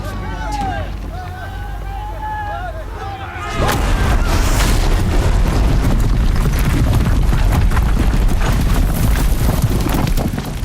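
Heavy cannon fire from mounted guns in a Horizon Zero Dawn battle: after a quieter stretch with voices, a loud, dense barrage of booming blasts and rumbling chaos starts and keeps going to the end.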